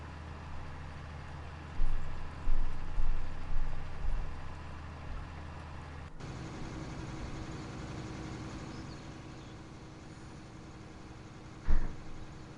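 A CLAAS tractor in the 240 to 250 hp class runs under load at about 8 mph, a steady low engine drone with deep rumble that swells in a few surges early on and stays close and continuous.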